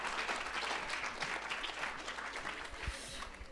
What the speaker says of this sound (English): A round of applause for the ladies as well